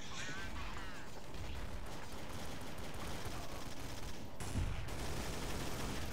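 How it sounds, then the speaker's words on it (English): Counter-Strike: Source gameplay with a rapid weapon reload, mechanical clicks and clacks under dense gunfire and in-game noise, and voices partly audible through the mix. "I need to reload"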